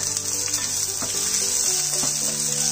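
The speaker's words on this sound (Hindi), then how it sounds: "तीन से चार टेबल स्पून ऑयल डालेंगे अब हम इसमें अनियन डालेंगे" Onions sizzle in three to four tablespoons of hot oil for street-style veg noodles, giving a steady, bright hiss with a few soft pops and clatters from the pan.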